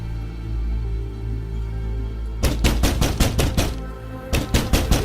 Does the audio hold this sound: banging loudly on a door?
yes